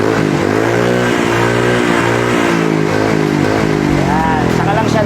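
A motorcycle fitted with a chambered-type power pipe exhaust revs loudly and steadily up through the range, holding high RPM with a harmonic drone that climbs near the end; a person talks over the engine.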